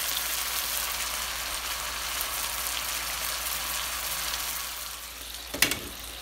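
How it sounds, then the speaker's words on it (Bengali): Spices frying in a pan for a Bengali fish and Malabar spinach curry, a steady hiss and sizzle that continues throughout, with a brief clatter of a utensil near the end. "মশলা কষা হচ্ছে"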